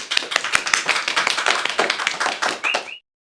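A small group claps together on a talk show set, giving dense, quick, close hand claps that keep up a brisk patter before stopping abruptly.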